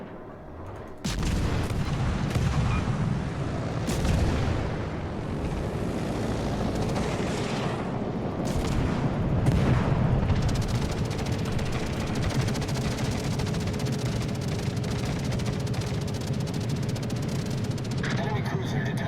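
USS Omaha cruiser guns firing in World of Warships, a dense continuous rumble of repeated naval gunfire and booms layered with game sound effects, loud and sustained throughout.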